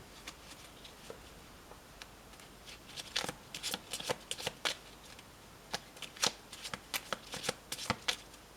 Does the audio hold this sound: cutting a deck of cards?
yes